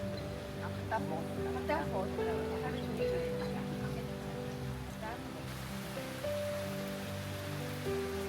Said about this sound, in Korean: 소낙비가 내리는 발리 원두막에서 한참을 멍하니 있다 왔습니다.